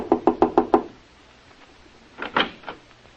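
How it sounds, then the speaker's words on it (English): Five quick, sharp knocks on a hotel room door, close and loud, followed after a pause by a couple of softer wooden knocks or door sounds, with no talking. "I'll knock on the door."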